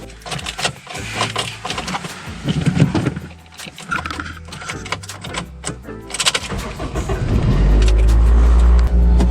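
A high-mileage Acura RSX Type S is driven off on a test drive, with door and cabin handling noises and rustling before the engine rises into a loud, steady close drone near the end.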